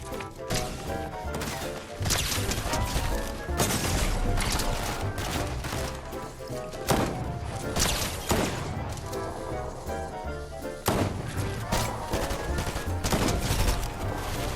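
Gunfire in Fortnite Zone Wars during a tense endgame round: dense, continuous bursts of shots and impacts layered over game music and effects, loud throughout with repeated sharp spikes.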